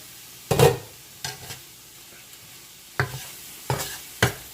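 Garlic and onions being stir-fried in a pan for Thai veggie stir fry: a handful of separate scraping stirs with brief sizzles, spaced irregularly over a quiet background, no talking.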